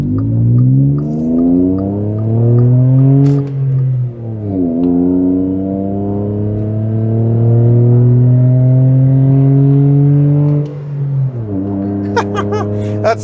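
A Seat Mii city car revs hard up to 60 mph, its engine note rising loud and strained through each gear, with short dips at the shifts.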